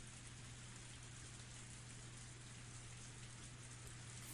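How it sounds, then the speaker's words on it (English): Steady pouring rain in the video game Higurashi When They Cry, a dense continuous hiss with a low hum underneath, faint and unbroken throughout with no voices. "Only the sound of the pouring rain filled up the silence."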